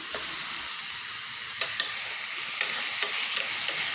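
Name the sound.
chopped tomato and turmeric frying in a pan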